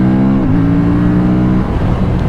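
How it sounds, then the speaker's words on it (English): A 2025 Aprilia Tuono 457 motorcycle engine revs while climbing a mountain road, a loud, steady droning note that rises in pitch early on, then holds a smooth, even hum throughout. "it is a smooth revving engine, and I like smooth revving engines"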